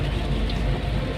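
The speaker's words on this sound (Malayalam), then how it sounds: "മഴ അടിച്ച് തകർത്തുകൊണ്ടിരിക്കുക" Heavy monsoon rain pounding along a road near Alappuzha where roadwork is underway, a dense, loud, continuous hiss and patter with low rumble underneath, no voices.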